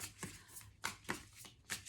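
Tarot cards are shuffled in a series of quick, soft riffling bursts with short pauses between them, close and quiet.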